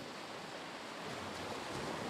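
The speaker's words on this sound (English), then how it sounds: "Waves start off the coast." Ocean waves breaking off the coast: a steady, full wash of surf and rushing water that swells slightly louder toward the end, with no voices.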